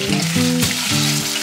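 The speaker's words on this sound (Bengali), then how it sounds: "এবার এর মধ্যে অ্যাড করে দিচ্ছি লম্বা করে কাট করে রাখা আলু।" Long-cut potato slices frying in hot oil with chopped ginger and green chili, a steady loud sizzle that runs throughout, with a tonal hum from nearby appliances layered over it.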